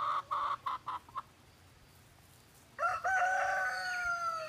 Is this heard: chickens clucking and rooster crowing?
yes